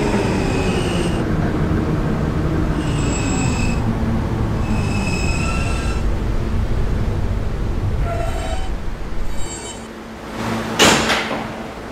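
A 2008 Kawasaki R160B subway train on the E line runs with a steady loud rumble, a bright electronic whine and recurring tonal chimes, then a brief sharp hiss or screech of brakes near the end.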